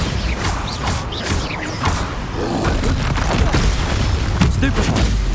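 Bombarda blasting spell explosions from the Hogwarts Legacy video game, a busy combat mix of booming blasts, mechanical clatter and thuds rolling on continuously at moderate loudness.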